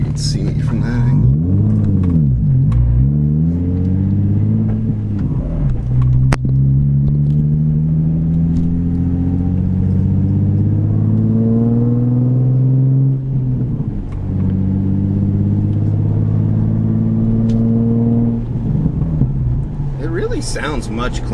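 Nissan 350Z running a 370Z Y-pipe revs up and down repeatedly, its exhaust tone rising and falling in smooth sweeps, loud and close, over a constant deep rumble.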